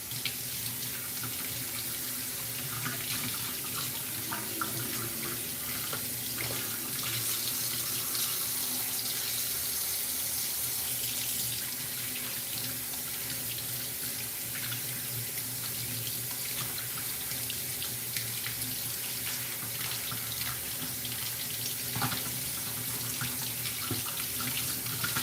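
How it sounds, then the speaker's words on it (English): A sink tap runs steadily while hands are washed, a continuous splashing hiss of water with small irregular changes as the hands move under the stream. "I have to wash my hands"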